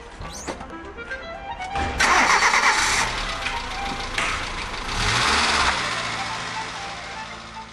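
A motor cranking and starting up on a sedan chair in a comedic French film scene, with a loud surge of engine noise that rises, dips and swells again over music and background sound.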